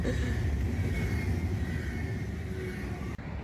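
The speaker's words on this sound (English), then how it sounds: "American trains are loud." An American train rumbles by loudly and steadily, a continuous low roar with rattling, heard close and without voices.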